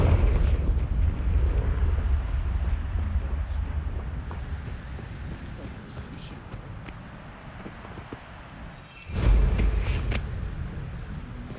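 A Confringo fire spell explodes in Hogwarts Legacy, a loud rumbling blast under a voice, then a sharp burst flares near the end amid game ambience.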